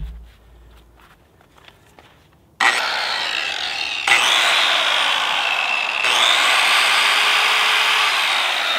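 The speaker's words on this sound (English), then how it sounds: "this is a corded angle grinder, Makita version, and I've got my Diablo diamond tipped grinder wheel" A corded Makita angle grinder fitted with a Diablo diamond-tipped wheel grinds the bottom of a rock flat, a loud steady whine and grinding rasp that starts abruptly after quiet handling noises and continues strongly throughout.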